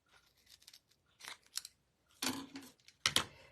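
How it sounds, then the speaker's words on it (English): Scissors snip through mini dimensional foam pads, cutting them in half during a foil card-making project; several short, crisp cuts come close up and alone, separated by pauses. "I'm going to bring in my mini dimensionals again, and I'm going to cut them in half"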